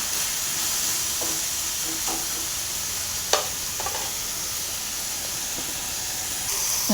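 Food dry-frying in a pan with no oil gives a steady, close hiss and sizzle throughout, with a few sharp scrape and clink sounds from stirring.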